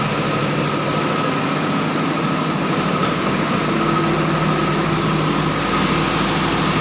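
A generator set engine runs steadily near an automatic transfer switch panel, a loud, continuous low droning hum with no breaks and no voices.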